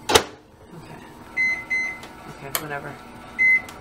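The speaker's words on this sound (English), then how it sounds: "I don't know how to use this microwave anymore." Microwave oven being set and run in a home kitchen, with short, clear electronic beeps repeating between button presses and a door clunk, while a person talks over the sounds.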